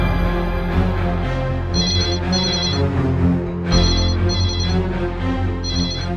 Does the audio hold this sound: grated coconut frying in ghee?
no